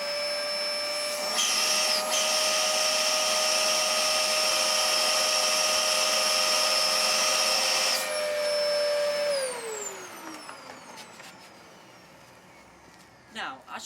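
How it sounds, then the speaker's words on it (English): A Hoover vacuum cleaner hooked to a wooden vacuum chamber switches on with a loud, steady whine and roar, runs for several seconds, then cuts off and winds down in a falling pitch, leaving faint clicks and quiet. "Using this hoover nozzle, we're going to plug it into the back of the vacuum chamber."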